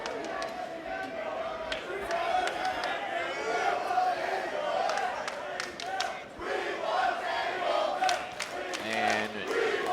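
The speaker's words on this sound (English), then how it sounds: "Dreamer seems to be hearing the crowd's chants for tables" A wrestling crowd at a WrestleCon Supershow event chants for tables, a loud, continuous roar of many voices with rhythmic shouting that fills the whole span.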